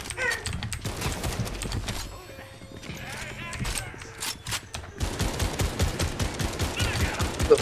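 Rapid gunfire in the Fortnite video game, bursts of shots crackling through a busy mix with players talking over the action.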